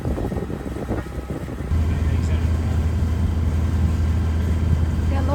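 A small crab-pot harvesting boat's engine drones steadily from the water near Beaufort, North Carolina, a low continuous hum that grows a little stronger partway through, with a faint background wash and no talk.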